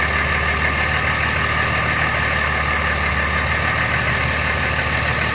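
A Cummins 5.9 diesel truck engine idles cold, steadily, with a low, rumbling drone and faint knocking, loud and continuous with no talking.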